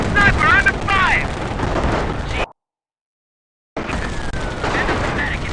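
Gunfire crackles steadily in a World War II video game battle, loud and close, broken by about a second of dead silence; voices may be mixed in with the shooting.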